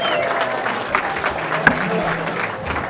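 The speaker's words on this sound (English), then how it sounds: "She deserves a round of applause." Audience applause for a chocolatier at a city's state of the city address, a steady wash of clapping across a hall with crowd murmur and some talk mixed in, one sharper clap standing out midway.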